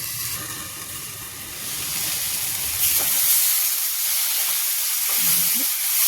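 Ivy gourd (kundru) sabzi with potatoes fries in a covered kadai, giving a steady loud hiss and sizzle of steam that swells slightly midway, with no voices.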